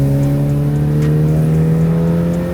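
A Mazda Miata's engine revs steadily as the throttle is blipped, a close, loud sustained drone with no talk over it.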